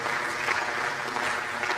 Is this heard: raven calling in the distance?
no